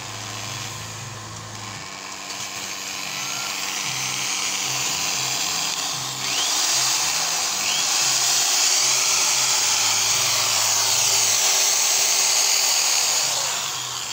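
An electric welding machine powered from a generator runs steadily with a buzzing, whining hum and a low droning pulse, fairly loud and continuous with no talk.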